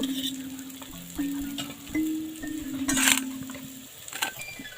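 Lentil fritters frying in hot oil: a steady close sizzle with light crackle, a few brief clatters of a utensil stirring or lifting the fritters, and no voices.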